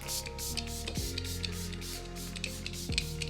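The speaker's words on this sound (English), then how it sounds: "I'm gonna be using this just to spray on my face to start with." Several quick bursts of spray hiss from a fine mist bottle, repeated in a steady rhythm against a faint low hum.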